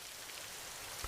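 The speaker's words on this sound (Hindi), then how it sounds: "अरे बहुत तेज बारिश हो रही है" Heavy rain pours down steadily as a broad, even hiss with no pauses, during a roadside scene where a man in a car offers a woman a lift. A brief heavier patter is audible near the end.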